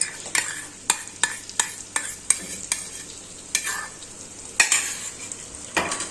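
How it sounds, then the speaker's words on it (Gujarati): Flour roasting in ghee for jaggery adadiya pak is stirred with a spoon against the pan, making about a dozen crisp, rhythmic scraping strokes over a faint background sizzle, close and clear. "લોટ પ્રોપર શેકાયેલો હોવો જોઈએ હવે લોટ થોડો એવો શેકાઈ ગયો છે"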